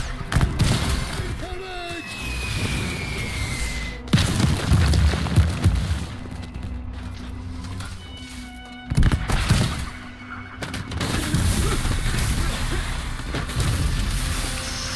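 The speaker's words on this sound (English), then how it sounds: "Artillery bombardment! To the dugouts!" Artillery bombardment in the video game War Hospital sounds as heavy booms and thuds scattered through the clip. Rumbling impacts sit between bursts of game noise, and voices talk in places.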